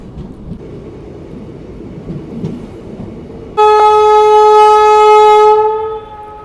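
A passenger train, the Corbett Park Link Express bound for Jaisalmer, arrives at a station. A low rumble builds, then a loud, sustained multi-tone horn blares for about three seconds before fading.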